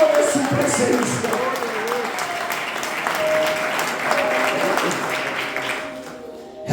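A church congregation applauds steadily through a Pentecost Sunday service, dense clapping holding at an even level with voices mixed in, then tapering off near the end.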